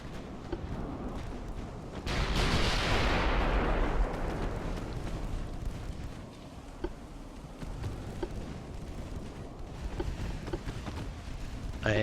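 A heavy warship gun salvo in the naval game Ultimate Admiral: Dreadnoughts, a deep booming blast that rolls and fades over a few seconds, followed by fainter distant thuds over steady ambient rumble.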